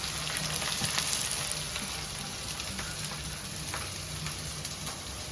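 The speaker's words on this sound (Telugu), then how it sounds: "ఉల్లిపాయలు, పచ్చిమిరపకాయలు వేగాలి శుభ్రంగా" Onions and green chillies frying in a pan for a mutton curry, a close, busy sizzle with crackling pops that starts a little louder and settles into a steady hiss, with no talk.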